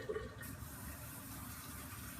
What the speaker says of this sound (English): just put in some cool water for your flowers.